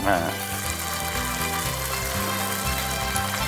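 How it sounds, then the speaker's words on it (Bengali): Mutton kosha, cooked in oil with spices until the oil separates, sizzles and fries in a pan with a loud, continuous crackle, and a faint low hum runs beneath it. "মাংসটা কষা কষা হচ্ছে, তেল ছেড়ে গেছে"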